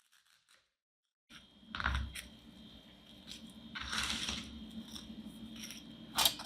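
A piece of craft foam is cut in half while making a candy bouquet, heard as a few soft, close snips and crunchy squeezes spread over several seconds after a brief silence.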